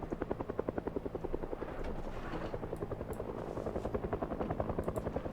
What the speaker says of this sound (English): And there's a helicopter, because of course there is.